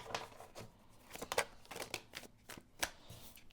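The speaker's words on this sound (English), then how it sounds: "we're going to shuffle again and get our next card here" A deck of tarot cards is shuffled close by in quick irregular riffles and snaps, several sharp bursts spread across a few seconds with quiet gaps between.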